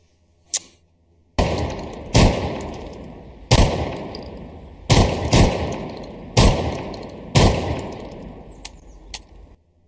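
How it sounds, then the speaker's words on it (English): Video game shotgun blasts boom out one at a time, six or seven loud reports spaced roughly a second apart, each followed by a rumbling tail, with a few sharper cracks around them. "Definitely a shotgun. Yes, definitely a shotgun."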